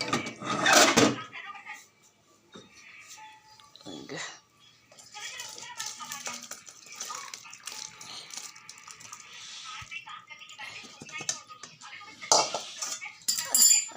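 A pot of soybean, potato and paneer curry lifted off a gas stove: scattered metallic clanks, scrapes and rattles of cookware, loud at first and then intermittent, with a voice speaking softly at times.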